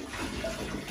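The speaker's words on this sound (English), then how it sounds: "You've got to put some water on her first, so do it on the back and the bum." Water poured over a Siberian husky during her bath, a brief soft gush and splash close by with no voices.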